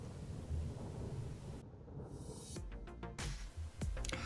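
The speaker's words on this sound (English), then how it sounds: "The thunder you hear in the background wasn't added for effect" Rumbling thunder rolls in from a real thunderstorm, a low distant boom building over steady wind and rain, with a few sharper crackling bursts near the end.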